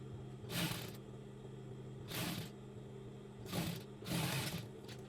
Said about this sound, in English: So you sew from one hijab cap end to the other this way as shown in the video.